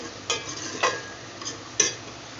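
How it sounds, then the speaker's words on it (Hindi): Onions half-fried in a pan, a soft low sizzle broken by a few sharp scraping stirs of a spoon, close and fairly quiet with no voices. "आप देख रहे हैं कि प्याज हाफ फ्राई हो चुका है। अभी 2 मिनट और इसको फ्राई करेंगे।"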